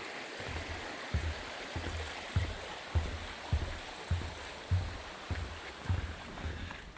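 A small creek beside the Little Bald Hills hiking trail gives a soft, steady rush of running water, with regular thudding footsteps passing along close by.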